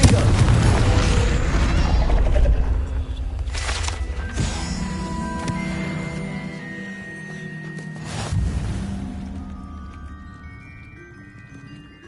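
A Confringo blasting spell exploding in Hogwarts Legacy, a heavy booming blast with deep rumble and a few sharper impacts that fade into quieter game ambience.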